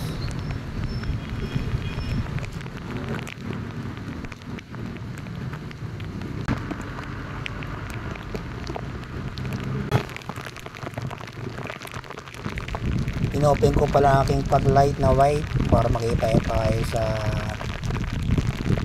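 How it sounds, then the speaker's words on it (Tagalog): Heavy rain pours steadily during a motorbike ride on a Suzuki Smash 115 through dark, flooded streets, a broad constant hiss that swells louder in the last few seconds, with someone talking over it throughout. "At saka kalakasan naman ng ulan"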